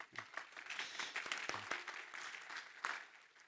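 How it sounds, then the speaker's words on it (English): An audience claps at the RoboCon 2023 software conference, with a brief, faint spatter of applause in a hall that tapers off toward the end. "yay! Applause!"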